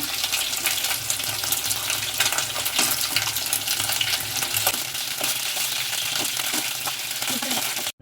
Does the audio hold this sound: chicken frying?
yes